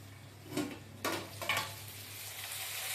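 Red chillies frying in a pan for a chutney, a soft steady sizzle with a few brief crackling bursts and a low background hum.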